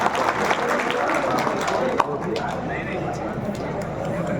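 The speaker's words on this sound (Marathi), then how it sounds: "टाळी करा टाळी करा टाळी करा" Crowd clapping and cheering at a kushti wrestling bout in an open village ground, dense continuous applause mixed with chatter and shouts, steady and loud throughout.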